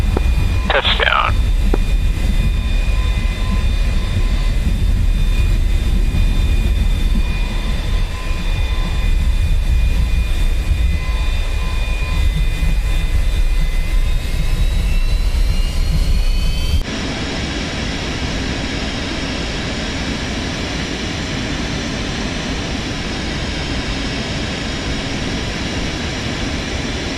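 Jet aircraft in the DCS World flight simulator game landing on a runway: a loud, continuous engine roar with steady whining tones that shift abruptly partway through, and speech mixed in.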